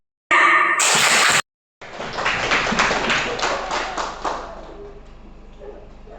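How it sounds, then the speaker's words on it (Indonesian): Students in a classroom applaud together in a short burst of clapping lasting about three seconds, following a brief loud noise at the start, then tapering off into a quiet room. "Beri tepuk tangan."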